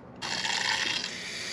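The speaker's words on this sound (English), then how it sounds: "Time to fill the coolant system." Water rushes steadily into a Chevrolet Blue Flame Stovebolt Six engine's coolant system from a sink source, starting abruptly with a loud, continuous pouring hiss that eases slightly toward the end.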